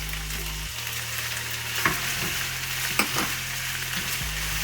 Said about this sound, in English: The onion has been cooking for 2 minutes. Now I'm going to add 2 tomatoes roughly chopped.